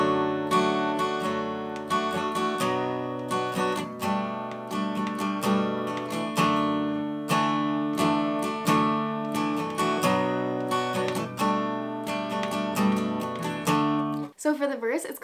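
An acoustic guitar strums the pattern of a song at a quicker tempo, with steady rhythmic chord strokes ringing out close and clear for about fifteen seconds before a brief pause and a final strum.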